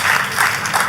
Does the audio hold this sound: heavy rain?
no